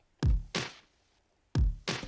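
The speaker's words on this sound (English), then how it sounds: "Well, two of them actually, kick and snare." A punchy kick followed by a snappy snare, the pair played twice in a steady pattern, wide and slightly distorted with short tails, modern pop drum samples.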